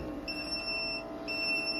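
A low-voltage alarm on a home battery bank beeps in a steady high-pitched repeating pattern, faint and continuous over an electrical hum in an equipment room.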